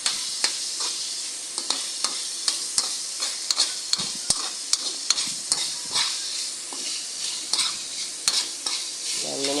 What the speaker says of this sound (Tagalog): minekos-mekos ni Kamami Angel yung karne na ginisa na may bawang, sibuyas, luya at kamatis